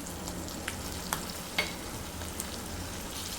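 Grated raw mango frying in a pan for mango rice: a soft, even sizzle with a few faint ticks and taps from stirring.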